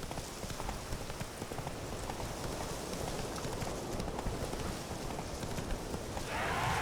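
Roach, a horse in The Witcher 3, gallops with a dense, continuous drumming of hooves at a steady, fairly loud level throughout, with no talking.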